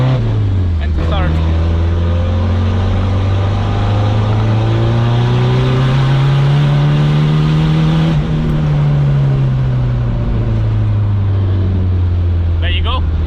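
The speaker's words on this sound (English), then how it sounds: "we'll try a 3rd gear, just slow pull on boost" Turbocharged car pulling slowly in third gear on boost, its engine note a steady harmonic drone that rises gently, peaks, then eases off again, loud and close throughout with a brief shift-like change midway.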